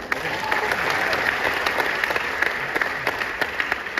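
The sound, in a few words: audience applause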